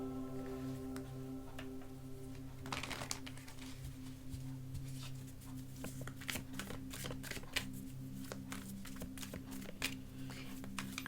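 Tarot cards are shuffled by hand, giving soft, fast papery riffling and flicking that gets busier partway through, heard close and quiet over a steady background hum.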